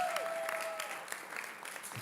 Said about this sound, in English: Come on, let's keep clapping if you can.